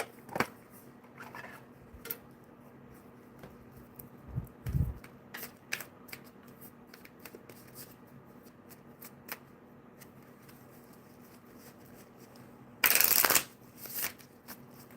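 A deck of oracle cards from the Higher Self deck is shuffled in soft scattered taps before a brief crisp riffle near the end, all close and quiet.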